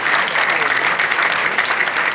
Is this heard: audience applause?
yes